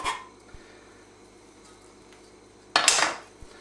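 A steel wok shifted on a stovetop gives two sharp metallic clanks, one at the start and a louder scraping clatter near the end, with quiet between and no talking.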